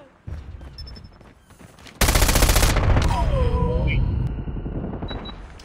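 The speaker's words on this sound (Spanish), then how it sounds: "Yo le estaba disparando al compañero." Rapid automatic gunfire from an ISO in COD Mobile, a loud sustained burst of shots that starts suddenly partway through, with someone talking over the game sounds.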